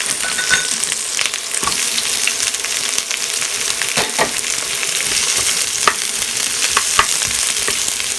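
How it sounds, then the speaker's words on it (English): Beef and onions stir fried in a hot pan, a steady loud sizzle running throughout with scattered sharp scrapes and clacks of a utensil tossing the food, no talking. "Now to this, I'm going to add my onions."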